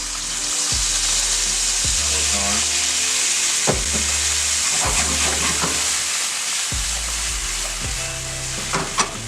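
White wine is poured into melon balls in a hot pan, and the pan bursts into a loud, steady sizzle with hissing and crackling throughout. Occasional utensil clinks and stirring knocks sit over the frying.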